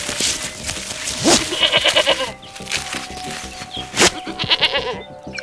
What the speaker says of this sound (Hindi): उसने बकरी को बांध दिया।